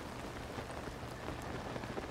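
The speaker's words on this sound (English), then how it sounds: "Oh no, it's rainy" Steady rain in Zelda: Tears of the Kingdom hisses as a dense, even patter of drops, constant and fairly close with no voices.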